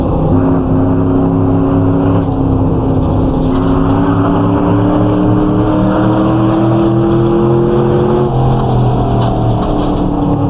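A race car engine in Assetto Corsa drones loud and continuous, held in third gear through a long section at daybreak in the Marathon de la Route endurance race, its pitch slowly rising and dipping.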